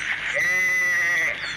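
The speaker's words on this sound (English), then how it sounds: "Again, the sheep are here." Sheep bleating in The Wolf Online simulator game, a single loud, sustained wavering bleat close by, with no talk over it.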